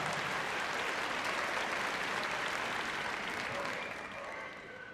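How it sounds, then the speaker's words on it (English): Steady applause from a large arena audience at the Crufts 2012 heelwork to music dog competition, sustained clapping that holds strong and then tapers slightly near the end. "Give her a round of applause on the way out the arena."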